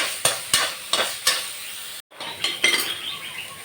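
Onion and green chili frying in a pan, with a steady sizzle under repeated sharp scrapes and clinks of a spoon stirring against the metal, close and fairly loud.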